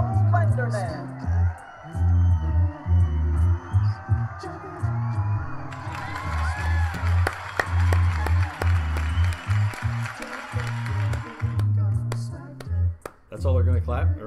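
Studio audience applause at a live broadcast show in a studio in Westchester, Pennsylvania: a brief burst of clapping and whoops mixed with a low music bed, with someone talking over it.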